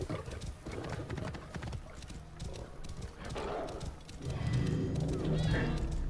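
A Roman horse's hooves clip-clop steadily in the ancient Egyptian world of Assassin's Creed Origins, a continuous rhythmic trot under game ambience and music that grows slightly louder toward the end.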